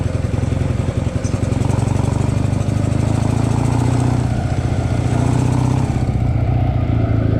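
A motorcycle engine revs hard under a rider, a loud, steady engine drone with rising throttle surges that runs unbroken through the whole stretch, close to the helmet.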